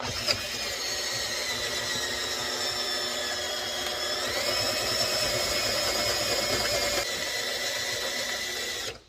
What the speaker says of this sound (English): We're drilling.